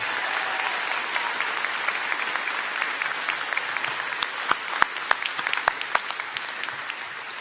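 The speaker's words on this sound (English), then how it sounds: "So how about a big round of applause and thank you for our support staff." A convocation audience for a college community development program gives steady, sustained applause to the support staff, with dense clapping throughout and a few sharper claps standing out near the end.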